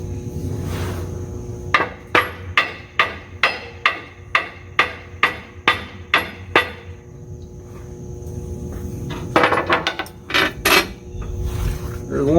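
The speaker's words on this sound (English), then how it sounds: "Get the hammer here and get one of these bolts started up." Steel hammer strikes ring out in a steady series of about a dozen blows while bolts are driven into a 5th wheel hitch on an M35A2 truck RV build, followed after a pause by a quicker burst of hits.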